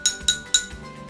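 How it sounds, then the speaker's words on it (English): Three bright ringing clinks from striking water-filled drinking glasses played as a water xylophone, evenly spaced taps each leaving a short clear tone that fades quickly. "When I hit the glass that has the least amount of water, it makes a higher sound."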